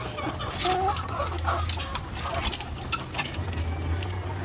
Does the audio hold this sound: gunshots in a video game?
no